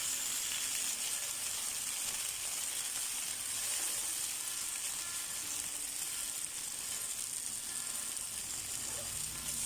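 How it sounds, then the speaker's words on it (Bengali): A little oil sizzling steadily in a pan while ingredients fry for spicy ramen, a continuous close hiss and crackle with no talking. "একদম কম তেলের মধ্যে এটাকে একটু ভুনা ভুনা করে ফেলবো"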